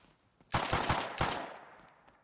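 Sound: AK rifle fire in the video game Rust

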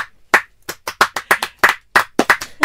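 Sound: audience clapping to welcome the actors

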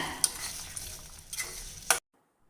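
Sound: stirring food in a pan

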